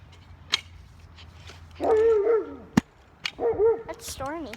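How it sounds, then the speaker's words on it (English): A dog whimpers and gives high, wavering whines and yips, with a few sharp clicks and knocks between them, close by and fairly loud, alongside quiet talking. "She's a really cute dog."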